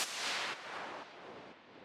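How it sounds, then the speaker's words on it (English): White noise from a Drift noise oscillator in an organic house production, a steady broadband hiss that starts brighter and dims in stepped drops over about two seconds, fairly quiet and alone. "I've got this white noise, which I made with drift."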